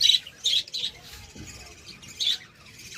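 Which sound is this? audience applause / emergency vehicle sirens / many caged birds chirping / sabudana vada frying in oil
many caged birds chirping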